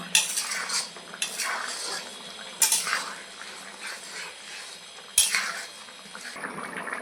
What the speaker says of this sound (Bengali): এখন আমি দিয়ে দেবো একটু গরম মশলা ভালো করে মিলিয়ে নেব